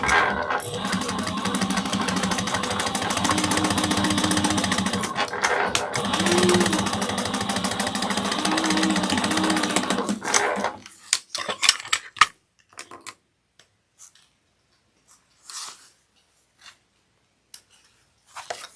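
A sewing machine stitches a 3/8-inch seam on a fabric sling, running in a fast, dense continuous whir for about ten seconds before stopping, followed by scattered clicks and handling taps.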